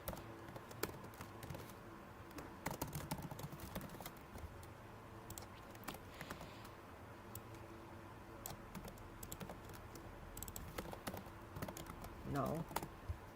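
Fast, steady keystrokes on a computer keyboard while refactoring code, a dense run of light clicks and taps continuing throughout at close range, with brief louder bursts of key presses.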